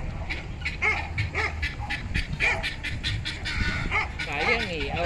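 Repeated yapping dog barks in quick bursts, fairly close, with other animal calls and voices mixed in the background.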